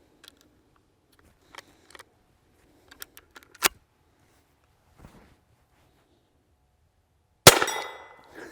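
A Henry Big Boy Steel rifle firing .32 cartridges: a few faint mechanical clicks, then a sharp, fairly close report, and later a much louder shot that rings out and decays for about a second.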